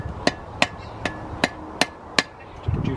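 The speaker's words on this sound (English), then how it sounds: "I can put the piece of metal between these points and I can hammer" Hammer blows on a small metal arrowhead during hand forging, six sharp evenly spaced strikes ringing out close and clear, with a duller knock at the end.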